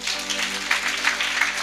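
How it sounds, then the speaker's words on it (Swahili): A church congregation claps for Jesus during a worship service, dense continuous applause from many hands filling the room at a steady level. "Pigeni Yesu makofi."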